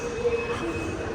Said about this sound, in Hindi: मैं उतर गया हूँ मेट्रो से और पहुँच गया हूँ जो चोंगचिंग नॉर्थ रेलवे स्टेशन है